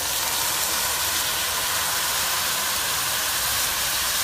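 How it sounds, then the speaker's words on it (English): Pork carnitas sizzling loudly in a hot pan as juice is added, a steady dense hiss that stays constant without any talk. "Now, last thing I'm gonna do here is I add a little bit of the juice in there. Okay, so it's gonna probably sizzle a little bit"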